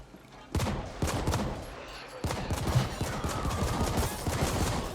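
Bursts of rapid automatic gunfire from the video game The Ascent, loud and repeated in a fast rhythm after a short quiet lead-in, with a brief pause before firing resumes.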